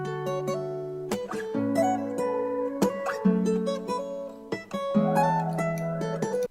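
Guitar loop at 130 BPM for a beat, plucked chords and picked notes repeating in a steady pattern with sharp attacks. Moderately quiet and alone, no voices.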